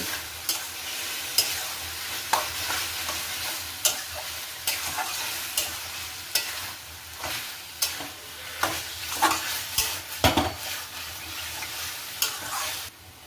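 Haleem ingredients with pieces of meat stir-fried in a pan, a steady sizzle broken by repeated scraping strokes of the spoon at a fairly regular rhythm, close and clear with no talk.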